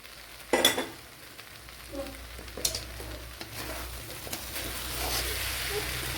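Sliced onion and capsicum sizzle softly in a pan for an egg dish, with scattered clatters of a utensil stirring and a faint hiss building toward the end.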